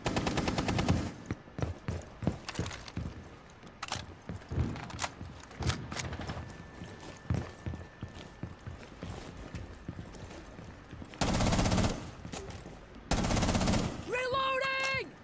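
Gunfire in Rainbow Six Siege, with scattered sharp shots, bursts of automatic fire and several louder sustained volleys, interspersed with clacking movement noises and a short voice near the end.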